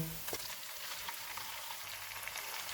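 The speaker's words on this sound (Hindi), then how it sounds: "प्याज फ्राई हो गए, इनमें 250 ग्राम बीफ का कीमा डालेंगे।" Beef mince and onions frying in a pan, a steady soft sizzle with faint crackles and an occasional stir, close and continuous with no talk.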